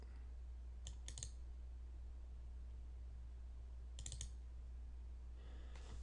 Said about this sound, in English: And I'm going to double click.